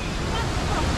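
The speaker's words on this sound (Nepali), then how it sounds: "यहाँ पनि झरना पनि रहेछ" A mountain waterfall beside Bhatte stream on the Gosaikunda trek in Nepal gives off a steady, dense broadband roar, close and unbroken throughout.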